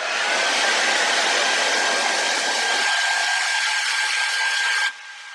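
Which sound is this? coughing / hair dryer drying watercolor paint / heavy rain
hair dryer drying watercolor paint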